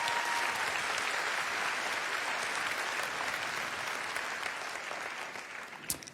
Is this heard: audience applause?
yes